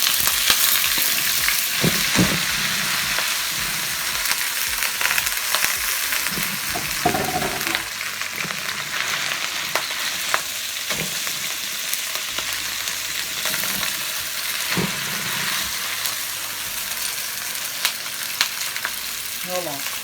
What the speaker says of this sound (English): we're going to fry this rice